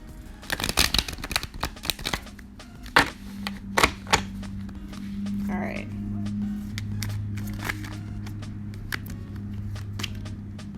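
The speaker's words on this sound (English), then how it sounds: "Here, I'll shuffle on camera too." Cards riffle and shuffle in quick bursts near the microphone, with a low steady hum underneath and soft clicks throughout.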